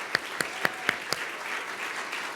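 Church congregation clapping for the pastor, a steady wash of applause with a few sharper individual claps standing out near the start.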